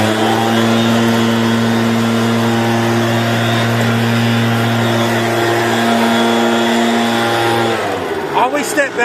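A blower roars steadily while blowing out dust and debris, its loud, even engine drone holding for most of the clip before wavering and breaking up at the end.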